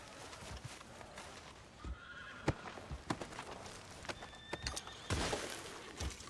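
A horse whinnies and snorts amid scattered hoof clops and thumps in Red Dead Redemption 2, fairly close, over a noisy outdoor town background.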